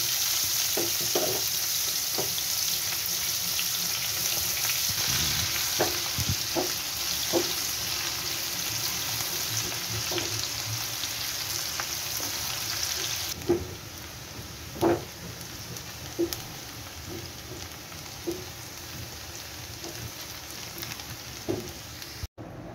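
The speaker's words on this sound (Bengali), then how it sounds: "তারপর ওই তেলের মধ্যে আবার পেঁয়াজ দিয়ে দিলাম।" Onions sizzle steadily in hot oil for chicken biryani, with scattered spoon clinks and stirring scrapes against the pan; the hiss drops noticeably quieter partway through while the stirring knocks continue.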